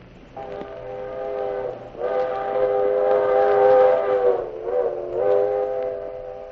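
A steam locomotive's whistle sounds in a railroad yard, one short toot and then a long, loud, sustained chord with a dip and a final swell, over a low rumbling background.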